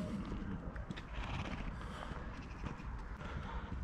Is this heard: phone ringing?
no